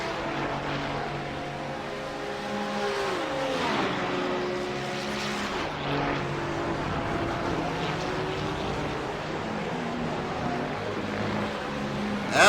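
GT3 race cars at Road America, including a BMW, roar through a sweeping high-speed right-hander in a loud, continuous engine drone with rising and falling pitch as the cars pass close by.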